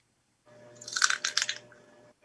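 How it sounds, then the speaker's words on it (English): Someone bites into food right at the mouth, a loud wet crunch lasting about a second with two bursts of crackling, followed by quiet. "That was a very loud crunch."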